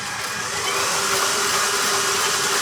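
An electric mixer whirs loudly and steadily as it beats pumpkin spice crumb coffee cake batter, a continuous motor hum with no pauses.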